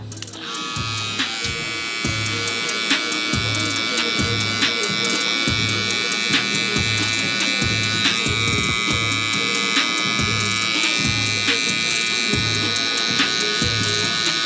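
An electric hair clipper with a 1 guard and its lever open cuts hair for a high taper fade. It gives a loud, steady close-up buzz with a soft rhythmic pulse throughout.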